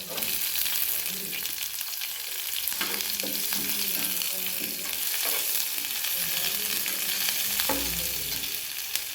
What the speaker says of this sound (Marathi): कांदा लाल होईपर्यंत परतून घ्यायचं